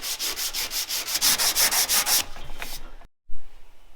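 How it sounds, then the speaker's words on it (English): Body filler over welds on a car being hand sanded, a close, loud run of steady rhythmic rasping strokes that fades into quieter scraping, a brief silence and a final knock. "Now I'm gonna sand by hand and get this perfect."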